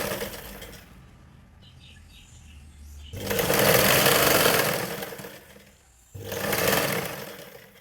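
An electric sewing machine stitches a blouse in two close, loud bursts of rapid whirring, one long and one shorter, separated by a brief pause, after a quieter stretch of low background hum.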